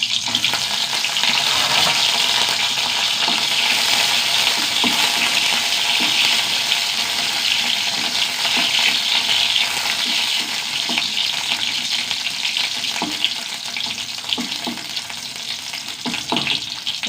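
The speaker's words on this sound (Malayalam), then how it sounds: "കുറച്ച് വെളിച്ചെണ്ണ ഒഴിച്ച് ഒന്ന് ചൂടാവട്ടെ നാലല്ലി വെളുത്തുള്ളി ഒരു ആറ് വറ്റൽമുളക്" Garlic and dried red chillies frying in hot coconut oil give a loud, steady, close sizzle throughout, with faint stirring scrapes and no talking.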